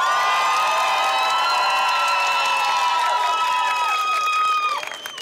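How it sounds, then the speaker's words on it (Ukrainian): A crowd at an outdoor karaoke contest on a town square cheers and applauds for a contestant, with whoops and shouts carrying through a loud, steady roar that fades slightly near the end. "Ваші оплески Лілі."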